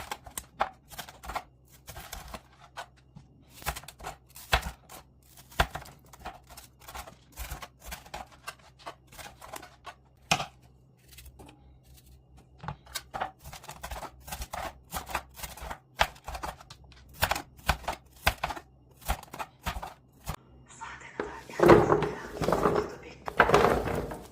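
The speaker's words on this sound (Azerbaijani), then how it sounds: "Sonra gördüyünüz bu formalı kəsənlə kəsirəm" A shaped cutter slices vegetables for a mixed pickle assortment, giving close, rapid, irregular clicks and chops throughout, with a louder burst of clatter near the end.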